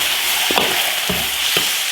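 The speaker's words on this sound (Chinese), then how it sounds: "先把牛鞭架鱼炒香，" Bull penis and soft-shelled turtle pieces stir-fried in a wok, a loud continuous sizzle of hot oil broken by several scraping spatula strokes, close up with no talking.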